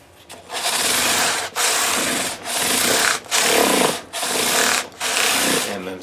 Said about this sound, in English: now we're just giving them a quick scrub